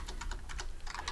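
Typing on a computer keyboard while coding a web page's navigation, with quick, irregular key clicks heard close and clear on their own, with no talking.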